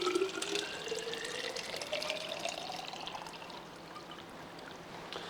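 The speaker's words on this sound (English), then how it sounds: "Let's fill up our flask of water." Water pours into a flask, a continuous trickling stream whose pitch rises steadily as the container fills, faint and close with no talk over it.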